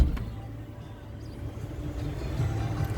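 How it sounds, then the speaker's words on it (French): A 2019 Suzuki Jimny drives over a cobblestone road, heard from inside as a low, continuous rumble with fine irregular jolts from the tyres on the stones and a steady engine drone beneath. "on est sur une route à pavé comme vous pouvez le constater"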